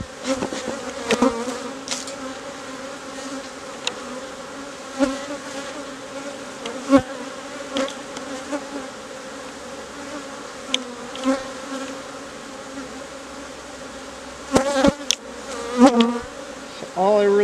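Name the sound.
honey bees buzzing during beehive inspection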